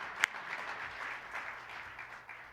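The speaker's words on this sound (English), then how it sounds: "Round of applause to all of you." Audience applause at an AAU lifetime achievement award ceremony, a quiet, steady patter of clapping with a sharper clap near the start, sustained and fairly distant throughout.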